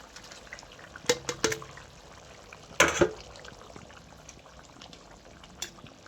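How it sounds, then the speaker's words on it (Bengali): Fish pieces going into a pot of boiling curry for a spicy mustard-oil fish dish give a few brief splashy plops and sizzles, with a louder burst near the middle over a low background bubble. "এবার তোমার তরকারিটা ফুটে গেছে। এবার তোমার মাছগুলো দিয়ে দেবো।"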